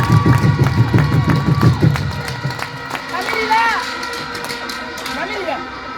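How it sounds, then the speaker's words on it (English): A crowd at an official gathering about hosting AFCON 2027 claps in a quick, rhythmic unison beat for about two seconds. The clapping then gives way to scattered cheering, shouts and overlapping voices that continue at a steady, lively level. "I want to ask the people here to clap for you on behalf of the region for us to host AFCON 2027."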